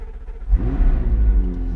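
A McLaren 675LT Spider V8 starts up nearby, a quick cranking whir catching into a deep rising engine roar that settles into a loud, rumbling idle, no talking.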